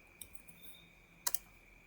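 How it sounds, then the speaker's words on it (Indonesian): A few quick keystrokes on a computer keyboard while typing a command in Civil 3D drafting software, faint, close clicks in a short burst against a quiet background with a steady electronic whine. "Caranya adalah dengan mengetik line"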